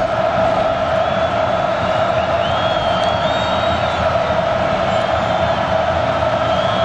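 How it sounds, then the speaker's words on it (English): Huge college football stadium crowd in Lincoln, UCLA against Nebraska in 1994, roaring continuously at kickoff, a dense sustained wall of cheering and whooping with faint whistles over it. "the big crowd to get another breath so they can roar louder when finally foot meets the ball"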